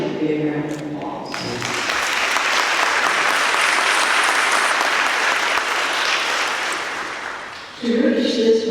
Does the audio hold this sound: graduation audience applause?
yes